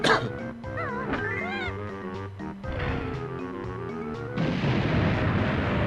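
Explosions in the video game Banjo-Kazooie boom out amid the game's music and chirpy character sound effects, ending in a loud, sustained noisy rumble.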